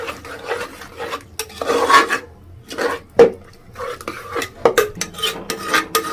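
A spoon scrapes and stirs tempering with curry leaves into a pot of white gongura sour curry, making rough rasping strokes and metallic knocks against the pot in an irregular rhythm, close and clear, with no speech.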